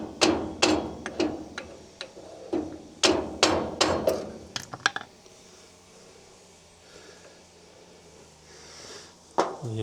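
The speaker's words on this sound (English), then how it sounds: "I'll tap this with a copper mallet just to push the adjuster forward" A copper mallet knocks sharply on a trailer brake adjuster behind the drum of an Ifor Williams trailer, a quick series of close metallic taps, then a quieter stretch ending in one last hit.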